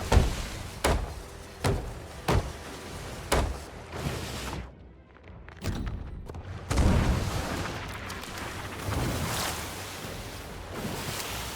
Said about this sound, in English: Yeah, just game cannons.